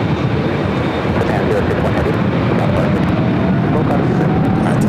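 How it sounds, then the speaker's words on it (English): An airliner bound for London Heathrow rolls down runway 24 left at Los Angeles airport, a steady broad jet roar holding loud and unbroken throughout, with voices talking over it. "the flight to London Heathrow now rolling down to 24 left."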